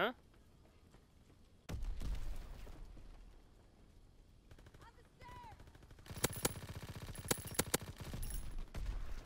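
Gunfire from a gun in Call of Duty WW2: a lone shot, then a sustained burst, later rapid automatic fire with sharp, close cracks packed tightly together, loud against a quiet in-game background.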